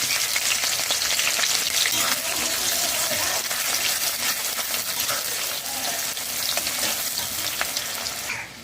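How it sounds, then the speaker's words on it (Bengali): Finely chopped onions fry on a high flame in hot oil with cumin, cinnamon and bay leaves for a Bengali chicken dish, a dense, continuous close sizzle with faint stirring scrapes and no talking. "হাই ফ্লেমে দু মিনিট পেঁয়াজ ভেজে নিয়েছি"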